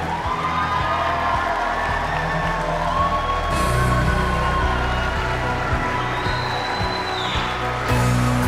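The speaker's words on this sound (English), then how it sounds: "Another round of applause for Casey and Michelle Goodman." Guests at a wedding reception applaud the newlyweds, a sustained crowd clapping with cheers and whoops filling the room throughout.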